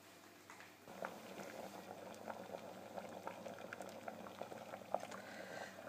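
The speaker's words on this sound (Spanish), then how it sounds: "a cocer durante unos 45 minutos a fuego medio" Lentils boil in a pot over medium heat, giving a soft, steady bubbling and popping that grows slightly after the first second and continues quietly throughout.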